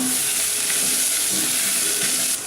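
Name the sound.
ginger and garlic frying in a pan for jackfruit curry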